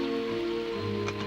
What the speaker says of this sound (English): It had been raining since lunchtime